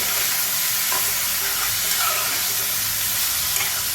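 Chicken, onions and salt for a village-style curry are stirred in a pan over a loud, dense, continuous sizzling hiss with faint scraping underneath.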